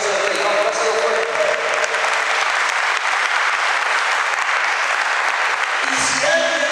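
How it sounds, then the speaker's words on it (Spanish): A church congregation claps loudly and continuously in a dense, even wash of applause that fills the whole space, with a brief rise in cheering toward the end. "Vamos, dale fuerte ese aplauso al Rey"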